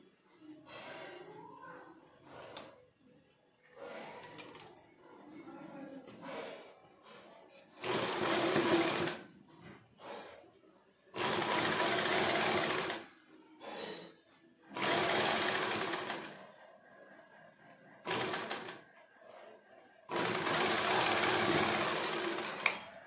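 A sewing machine stitches a side pocket onto a kurti in several loud, steady bursts of rapid whirring, separated by pauses in which someone talks.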